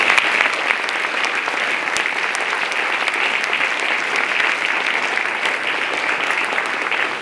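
A school band concert audience applauds warmly at a winter concert, a dense, even wash of many hands clapping that holds steady throughout.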